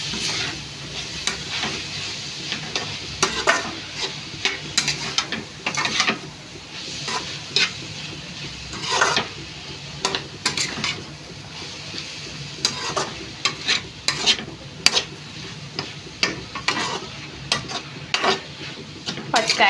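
Vegetables salted and sprinkled with turmeric fry with a steady sizzle in a pan, scraped and stirred in repeated bursts, the spoon clinking against the metal, with no voices present.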